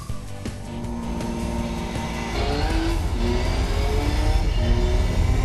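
A racing video game car engine, played on a Logitech Driving Force EX wheel, drones loudly and steadily with a rising pitch as it accelerates, a constant close roar with no talk.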